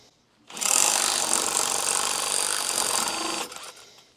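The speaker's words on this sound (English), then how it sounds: "I will install an XL connector into that quarter turn" A power tool whirs steadily for about three seconds while an XL connector is driven into a quarter turn of a railing, close and loud, then spins down.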